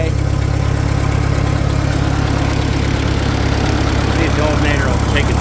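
Continuous low rumble of an old Ford 8N tractor engine idling outdoors in cool December weather, holding an even, unbroken running note close by throughout.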